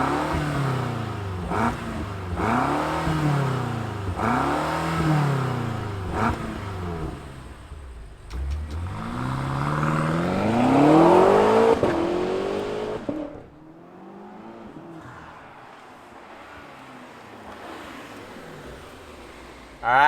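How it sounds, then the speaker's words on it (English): A 2022 BMW M5 CS engine fires up, then is revved repeatedly, with several sharp rising and falling rev sweeps, a longer climbing rev, and a settling idle, loud and close with no talk. "Let's fire up this M-powered M5 CS and see what it sounds like."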